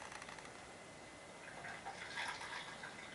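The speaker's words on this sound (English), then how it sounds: "if you can hear the pouring, even the pouring itself, it's just so thickly sounding" Strongly overbrewed tea pours from a very hot teapot in a gong fu brewing session, a soft, steady liquid stream heard alone for a few seconds.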